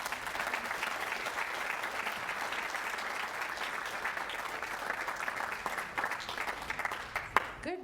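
Steady, sustained applause from a college convocation audience welcoming a speaker, a dense even wash of clapping from many hands that continues throughout.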